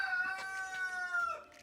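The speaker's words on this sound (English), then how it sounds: "Darn roosters." Rooster crowing on a farm, a single drawn-out call of about a second and a half, moderately distant and fairly faint.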